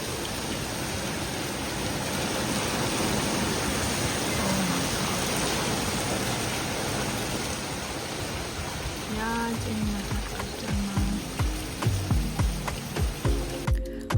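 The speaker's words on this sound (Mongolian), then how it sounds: "Энэ нэг бороо." Steady rain falling in Arezzo at Christmas, a dense continuous hiss of drops across the whole stretch, with some clicks and faint tonal sounds near the end.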